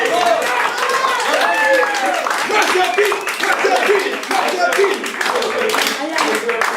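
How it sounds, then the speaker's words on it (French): Audience applause for Monsieur Peach at a French comedy show, dense crowd clapping throughout with cheers and voices calling out over it. "Applaudissez monsieur P."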